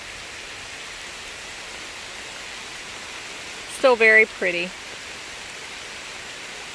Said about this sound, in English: Little pitter patter of rain.